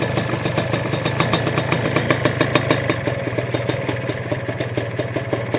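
A Sledgehammer 333 single-cylinder engine of about 30 horsepower idles on its first start, a loud, close, rapid and even thumping pulse that runs throughout with a metallic clatter on top.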